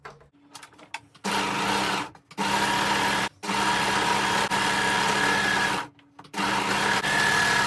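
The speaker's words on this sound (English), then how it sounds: "Just need to overlock this one and it's all finished." An overlocker serger sewing machine runs in three steady bursts as it overlocks a garment edge near a sleeve armhole, its fast motor whir loud and close, with short pauses between runs.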